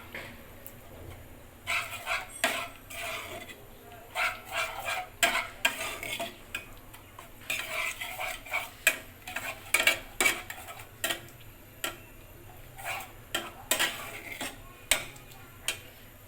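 Spices with sour curd being stirred and sautéed in a pan for chicken, heard as repeated scraping and clinking strokes of a utensil over a faint sizzle, close and irregular.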